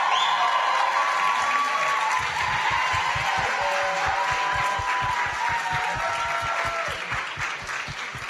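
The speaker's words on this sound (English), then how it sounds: "Please give her a round of applause." Live audience at OZY Fest applauds steadily for a panel guest, a full wash of clapping and some cheers over a continuous bed of crowd noise, with a faint voice carried through the room.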